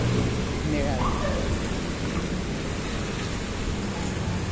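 Heavy downpour during a storm at a high-rise condominium, a steady dense roar of rain with a faint low rumble of thunder, continuous and loud throughout.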